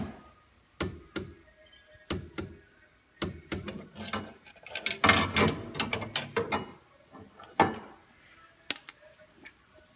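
A torque wrench ratchets in short bursts of close, sharp clicks during a clutch install on a 2015 Polaris Ranger 900XP, with quiet pauses between strokes.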